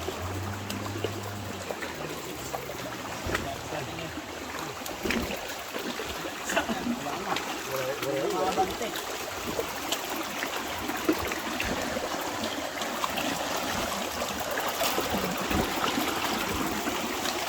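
Water from a mountainside stream flows and trickles steadily on the way to a waterfall, a constant broadband rush with small splashes, while people talk nearby over it.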